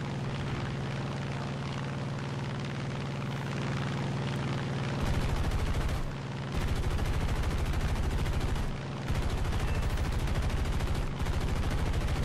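A propeller-driven German P-47 drones steadily in a realistic War Thunder air battle, its engine hum overlaid by long, loud bursts of rapid machine-gun fire that break off briefly and resume several times.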